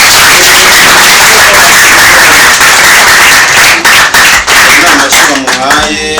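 Loud clapping from guests at a birthday celebration for a prominent Rwandan film writer, dense and close, mixed with voices and crowd noise, and talking emerges over it near the end.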